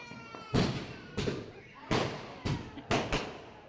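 Several sharp firecracker bangs at a birthday celebration, one after another at irregular intervals, somewhat distant, with faint background noise between the pops.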